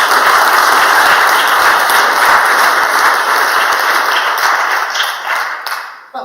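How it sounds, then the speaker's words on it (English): Applause from a lecture audience fills the room, a dense, steady roar of many hands clapping close by that holds for about five seconds before tapering off. "Come on up, give him a round of applause."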